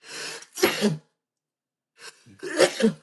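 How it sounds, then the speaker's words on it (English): Two sharp sneezes separated by a short pause, each a loud explosive burst close to the listener. "I've just sneezed."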